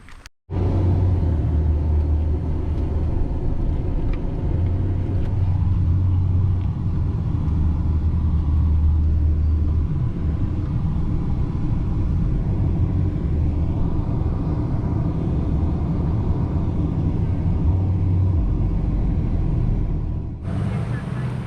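A boat motor on the Satilla River roars at a loud, steady, low throttle for about twenty seconds, a constant heavy rumble with wind noise and no clear change in pitch.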